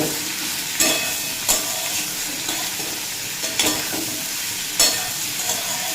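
Ridge gourd fries on a high flame in a loud, continuous sizzle, punctuated by several sharp spatula scrapes and taps against the pan at irregular intervals.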